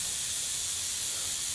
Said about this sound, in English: I'm going to spray this very, very light again